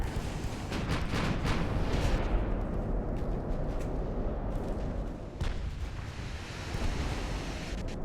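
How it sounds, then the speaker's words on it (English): Naval cannons boom from warships in the video game Ultimate Admiral: Dreadnoughts, with repeated heavy blasts over a continuous roar of sea and wind. "Fire Nova cannons for the Emperor."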